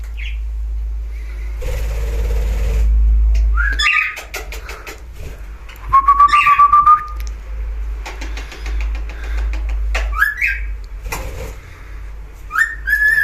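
Pet parakeets in a free-flight home setup chirp and whistle in bright, rising calls scattered through the scene, close and clear over a low steady engine-like hum, with occasional wing flutters.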